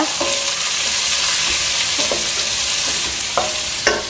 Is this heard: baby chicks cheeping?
no